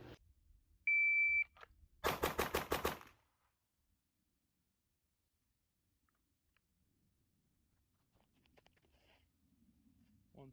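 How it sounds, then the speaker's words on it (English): Rapid gunshots from a Kimber KDS9C pistol: a tight string of about nine sharp, loud shots fired in quick succession, preceded by a shot-timer beep and followed by near silence. "if the slide can reciprocate as fast as you can pull that trigger"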